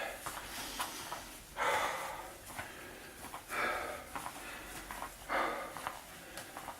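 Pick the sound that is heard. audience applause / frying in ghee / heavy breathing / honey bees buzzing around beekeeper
heavy breathing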